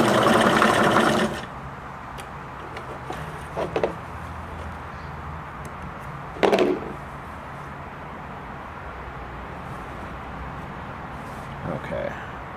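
A Singer Merritt 2404 sewing machine runs a straight stitch in a short loud burst at the start, then falls to a low background with a few brief clicks and one sharp knock.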